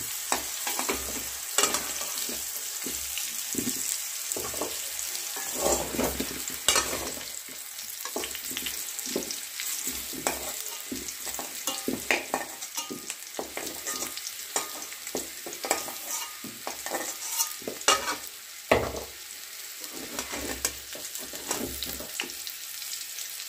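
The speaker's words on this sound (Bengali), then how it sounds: "এভাবে আপনারা 10 মিনিট হালকা নাড়াচাড়া করে ভেজে নেবেন" Potatoes frying in white cooking oil over low heat while being gently stirred in a pan, with scattered scrapes and clinks of the utensil over a steady soft sizzle, no talking.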